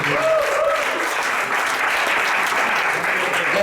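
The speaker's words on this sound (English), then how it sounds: "can we give him a round of applause?" An audience applauds at a business presentation, a dense, steady wash of clapping that holds at an even loudness throughout.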